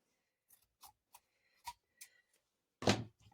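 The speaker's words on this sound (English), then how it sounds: "carefully cut this away without getting glue all over my fabric scissors" Several sharp fabric-scissor snips cut through fabric one after another at irregular intervals, close and quiet, ending with a louder cut.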